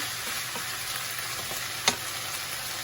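Vegetables stir-fried in a pan with a little sesame oil and sauce give a steady, close sizzle, with light scraping stirs and one sharp clink of a utensil against the pan partway through.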